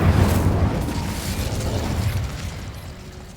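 A Hogwarts Legacy Incendio fire spell whooshes out in a loud, rumbling burst that fades over a few seconds.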